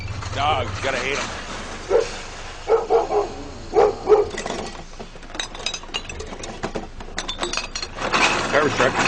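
A dog barks several times in quick bursts through the middle stretch, fairly close and loud, amid outdoor street noise and occasional clinking of glass bottles.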